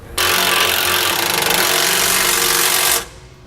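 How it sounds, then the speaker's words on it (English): Bolts and nuts are tightened with a socket and wrench while fitting SumoSprings helper springs to a vehicle. One loud, continuous, close burst of rapid ratcheting clatter lasts about three seconds and then cuts off. No one talks. "you'll tighten them down using a 14mm or 9/16 socket"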